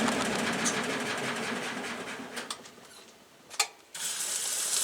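A 1996 Maytag Dependable Care Plus washer braking to stop its spin, a close whirring mechanical rush with rattling ticks that fades and drops out briefly before resuming.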